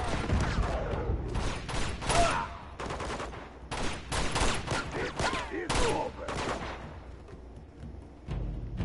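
Rapid bursts of sniper and other gunfire in a firefight in Uncharted 2, sharp cracks spread across the stretch with brief gaps between volleys, loud and close.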